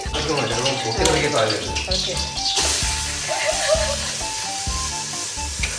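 Rice tipped into a hot pan for a pre-dawn biryani, giving a steady broadband sizzle and watery hiss close by, with people talking over it throughout.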